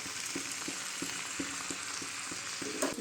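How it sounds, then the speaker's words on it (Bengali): Potatoes frying in raw mustard oil with salt, turmeric and chilli, a steady close sizzle broken by regular scraping stirs of a spatula against the pan, no voices. "আলু ভাজা চাপিয়ে দিয়েছি, আলু ভাজা চাপিয়ে দিলাম"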